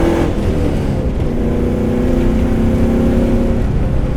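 The deep, rumbling engine of a 1969 AMC Rambler wagon hot rod idles loudly and steadily, then revs slightly, with a rough, throaty tone and no talking.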